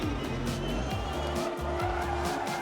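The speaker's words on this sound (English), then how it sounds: "Big lock-up from Abt, and he hits Al-Kashwari, and that allows Prost through." A Formula E race car locks its brakes, its tyres briefly squealing and skidding over the steady electric whine of the racing cars, loud and close throughout the short moment.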